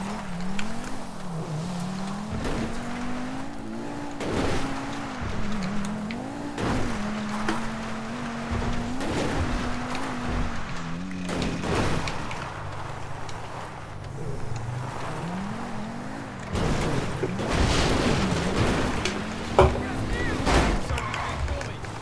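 Military truck from Grand Theft Auto 5, its engine droning and shifting pitch as it drives, with occasional tire noise and thumps, under intermittent talk.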